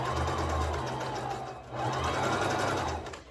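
A sewing machine stitches an old wig being remade, running with a steady close whir that dips briefly midway before resuming at full speed.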